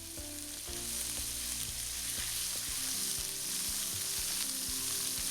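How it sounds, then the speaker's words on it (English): Tofu pieces laid in a single layer fry in about four tablespoons of hot oil in a pan over a medium flame, giving a steady, close, dense sizzle throughout with no talking. "Let it fry for 1 or 2 minutes till the bottom is brown."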